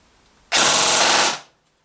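KWA QRF MOD.3 airsoft SMG firing one continuous full-auto burst of about a second, a loud rapid buzzing rattle that stops cleanly into silence.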